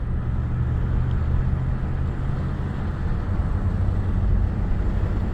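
Cars moving along a flooded road in Narrows during September 2024 flooding produce a continuous low, distant rumble with a faint wash of noise and no distinct single pass.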